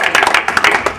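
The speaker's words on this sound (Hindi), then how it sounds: "तालियों के साथ स्वागत कीजिए हमारे पुरोहित जी का" Brisk, dense applause greeting a guest at a welcome ceremony, many hands clapping loudly and close in a quick, slightly uneven patter.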